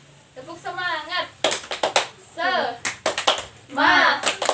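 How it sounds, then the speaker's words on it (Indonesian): A class of second-grade children performs a rhythmic clapping chant, bursts of group hand claps alternating with a teacher's spoken lines and children's voices. "Kita akan melakukan tepuk semangat."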